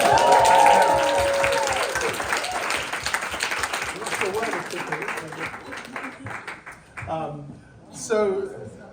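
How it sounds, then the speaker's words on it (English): A conference audience applauds with steady, dense clapping that gradually fades, and a voice begins speaking near the end. "give yourselves a round of applause"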